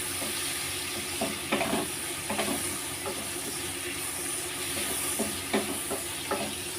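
Prawns frying in a pan for a pointed gourd and prawn dish, giving a steady close sizzle and hiss with occasional stirring clatters and spatters, no voices.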